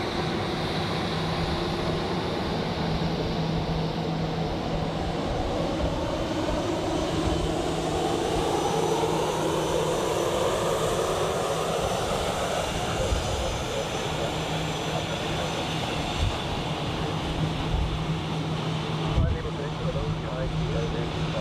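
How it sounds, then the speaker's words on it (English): Boeing 777 airliners, a Swiss jet and a Thai Airways jet, at Zurich Airport: a steady, loud jet engine roar that holds for the whole stretch, with a broad whine slowly sweeping in pitch as the aircraft moves. "Two 777s there. The Swiss one going to Tokyo Narita, and Thai Airways, of course,"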